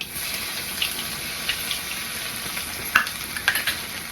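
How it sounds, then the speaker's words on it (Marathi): Garlic, green chili and curry leaves fry in hot oil with cumin and mustard seeds, a constant close sizzle punctuated by occasional louder crackles and pops. "आता आपल्याला हे छान असं तेलामध्ये तळून घ्यायचं आहे"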